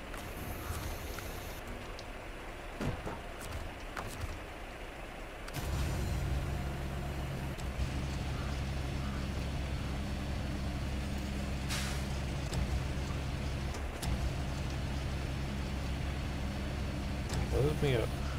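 A heavy truck in the video game SnowRunner: after a few seconds of quieter ambience, a deep, steady diesel engine rumble kicks in and holds loud and continuous to the end, with a brief hiss and clunks on top.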